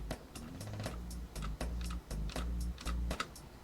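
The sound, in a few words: computer keyboard typing while playing rhythm game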